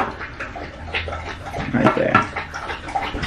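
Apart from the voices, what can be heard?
dog drinking water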